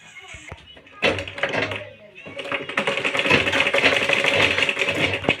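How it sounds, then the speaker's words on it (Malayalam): A sewing machine stitches folded fabric at close range, starting with a few short taps and bursts and then settling into a fast, steady clatter, with talking underneath. "2 സൈഡും ഫോൾഡ് ചെയ്തിട്ട് അതിന് സ്റ്റിച്ച് ചെയ്യാം."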